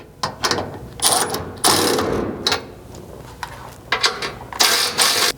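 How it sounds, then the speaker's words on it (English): A ratchet with a 13 mm socket tightens the mounting bolts of a gas tank skid plate on a Nissan Frontier, giving bursts of close, rapid clicking with short pauses between sets of strokes. "take your 13 and work your way around tightening the mounts to the frame"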